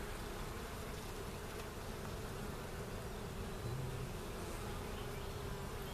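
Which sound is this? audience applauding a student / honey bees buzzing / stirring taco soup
honey bees buzzing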